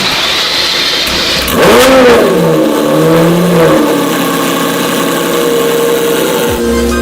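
Lamborghini Murcielago LP 640 with a gated manual, driving out of a garage, its engine revving loudly and close with rising and falling pitch, then settling into a steady idle rumble.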